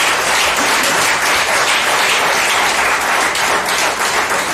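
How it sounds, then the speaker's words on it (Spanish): Loud, dense applause from a church congregation during a pastor's sermon fills the clip, a steady unbroken wash of many hands clapping at close range with no voices on top. "Y ahora dale un aplauso a la bendita gloria de Jehová."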